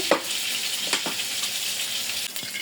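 Oil sizzles and crackles steadily in a pan heating for cooking river aair fish, with a few sharper pops and spits near the start, close and continuous with no voices.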